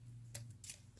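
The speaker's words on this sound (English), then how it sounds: "Snip it off." Two quick, faint scissor snips cut fly-tying thread at a fly-tying bench, close and isolated against near silence.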